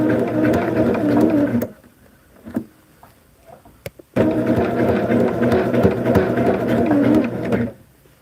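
A sewing machine stitches a churn dash placemat in two close bursts of steady whirring, stopping in between and again at the end for back stitching, with light handling clicks in the pause.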